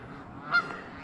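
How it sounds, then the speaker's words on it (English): A flock of geese at a vineyard in Camp Hill, Alabama, honking in a brief burst, one louder honk standing out over a busy background of calls. "And the geese are alive."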